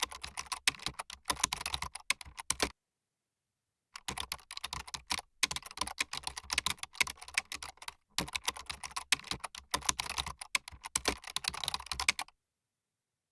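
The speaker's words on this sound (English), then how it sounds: "Okay, let's start typing." Steady, rapid typing on a computer keyboard, close and clear, in three long bursts separated by short silent pauses, with no voices.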